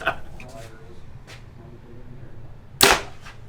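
An arrow with a 150 grain point is shot from a bow into a target in an archery shop, ending in one sharp, loud thwack near the end. Faint talk and shuffling come first.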